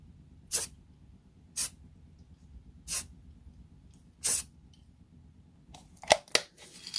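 Short bursts of spray paint from an aerosol can put a coat on an MCH helmet to take off its shine. Four separate hissing puffs are spaced about a second apart, followed by a quicker cluster of sprays and clicks.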